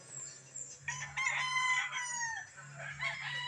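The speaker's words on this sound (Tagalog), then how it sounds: "At ang dami mga alagang manok." A pet rooster crows loudly and close by among a flock of kept chickens, its drawn-out call standing alone over a steady low hum, with a softer second crow following.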